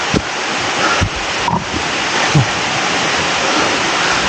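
Sirithan waterfall on Doi Inthanon, a mountain, pours out a loud, steady broadband roar of falling water, with a few soft thumps of wind buffeting against it.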